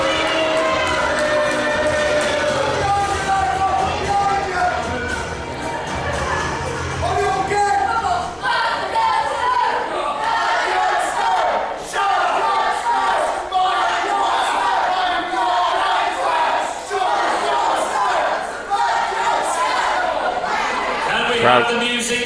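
A British wrestling show crowd cheers and chatters continuously in a hall, a busy wash of voices and shouts running beneath someone speaking.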